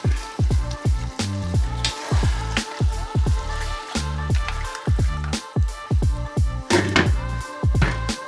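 White sauvignon wine hits a hot stir-fry pan of vegetables, mussels and prawns, setting off a busy, close sizzle full of rapid popping and spitting droplets that carries on steadily throughout.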